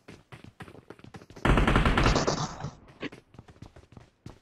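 A burst of automatic gunfire in the mobile battle royale game PUBG Mobile rattles loudly for about a second and a half, framed before and after by quieter scattered shots and clicks.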